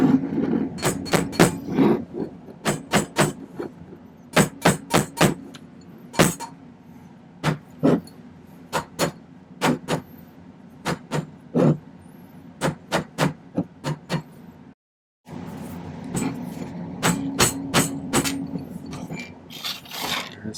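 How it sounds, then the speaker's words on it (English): Silver ring bands being hammered into shape, with sharp close metallic strikes in quick rhythmic runs and short pauses between groups, plus a steady low hum underneath. "I'm not going to make you watch me hammer all these into shape"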